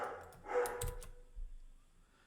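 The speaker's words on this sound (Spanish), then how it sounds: "Y no sé si podéis oír a mi perro de fondo" A dog barks a few short, faint times in the background of an indoor room, distant and low in level.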